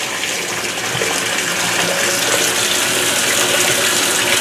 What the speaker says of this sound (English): there's still a nice, solid stream of water coming in